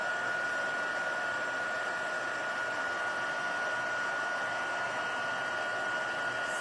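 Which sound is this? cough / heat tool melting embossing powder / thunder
heat tool melting embossing powder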